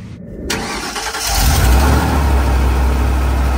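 A car engine, freshly rewired and resealed, cranks briefly and then catches, settling into a loud, steady running rumble heard close up with no talking.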